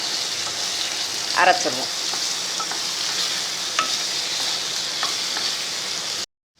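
Cashews and other ingredients sautéing lightly in oil for a pea and potato kurma, giving a steady soft sizzle with occasional stirring scrapes, close by, with a brief voice speaking near the end.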